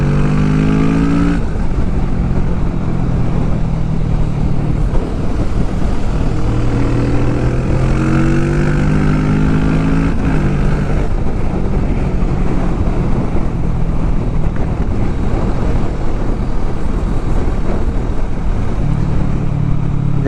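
A Kawasaki motorcycle on a road trip, its engine revving and climbing through rising and falling pitch sweeps under heavy, constant wind roar, loud and close as the bike accelerates.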